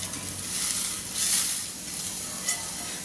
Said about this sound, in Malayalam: തേങ്ങയൊക്കെ നല്ലതുപോലെ ഒന്ന് മൂത്ത് വന്നിട്ടുണ്ട് ഇതിലേക്ക് നമുക്ക് പപ്പടം ഇട്ട് കൊടുക്കാം